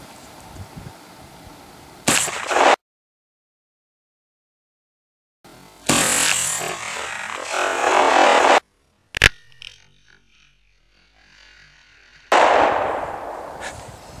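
A Remington 870 shotgun fires outdoors at a watermelon on a stand and 2-liter bottles: several loud, sharp blasts separated by gaps of near silence, each with a short ringing tail.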